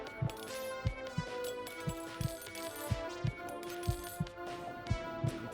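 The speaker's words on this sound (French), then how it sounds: "J'ai fait tomber à l'intérieur de son cœur une lime" A metal file drops inside a heart in a virtual reality video game, giving a run of about a dozen light metallic clinks and taps in a fairly steady rhythm, close and clear, with no talking.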